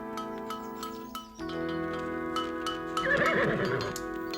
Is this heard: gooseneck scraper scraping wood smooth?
no